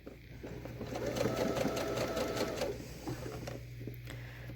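A sewing machine runs steadily as it stitches a seam on a fabric face mask, a close, continuous mechanical whir that swells in the middle, with a brief pause and restart near the end.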